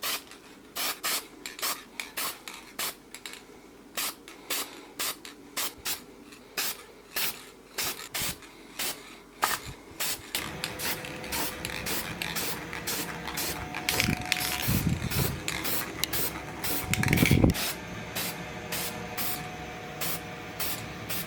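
Aerosol spray paint on 2013+ BRZ/FRS OEM tail lights, heard as short bursts of hissing spray repeating at a steady pace, then longer continuous hissing mixed with clicks and rattles.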